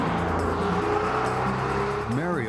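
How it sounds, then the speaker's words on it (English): A Porsche 911 engine drives with a steady, continuous roar, with a rising and falling rev sweep near the end while people talk over it. "It's the sound of the engine, which I love."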